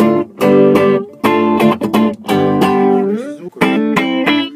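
An electric guitar plays through a distortion effects pedal with all knobs centered except volume, a loud, close run of sustained, overtone-rich notes and chords with short gaps between them and no talking.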